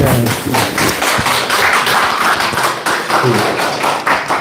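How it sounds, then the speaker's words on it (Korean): Applause from a lecture audience at a church discipleship academy class, loud close clapping mixed with taps and thumps, uneven and busy over a murmur of voices. "박수."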